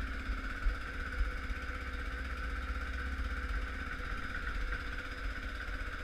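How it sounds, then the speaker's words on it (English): A Kawasaki KVF 360 ATV idles steadily after a cold start, its engine giving an even, continuous mid-pitched drone with a slight rhythmic throb and no revving, heard close and alone. "That's your cold start. I'm just going to let it warm up here for a minute."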